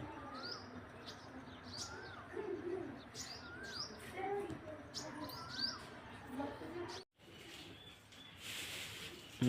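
Soft pigeon coos and scattered bird chirps repeat over a steady outdoor murmur, with a brief gap near the end.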